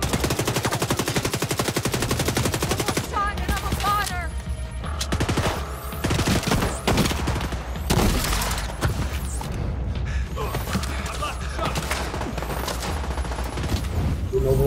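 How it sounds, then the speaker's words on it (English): Rapid machine-gun and rifle fire rattles almost without pause during a co-op assault on the Capitol Building stronghold in The Division 2, loud and close, with scattered heavier booms. "Somebody seemed to be shooting us from the back, though."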